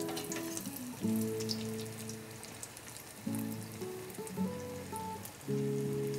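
Breaded balls, double-coated in flour, egg and panko, deep-frying in 180-degree oil: a steady bubbling sizzle runs throughout, with a tonal musical bed swelling at intervals over it.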